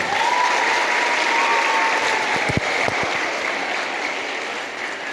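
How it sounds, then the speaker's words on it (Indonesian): Steady, dense applause from an audience at an Islamic girls' boarding school event (Pondok Pesantren Al-Mizan Putri, Cikole, Pandeglang), even and sustained, fading slightly toward the end. "berikan tepuk tangan antum untuk Nusantara"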